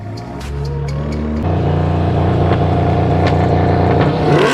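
A car engine, just revived with a jump start before a race, idles and then rises in a sustained rev, loud and close with a steady rumbling drone.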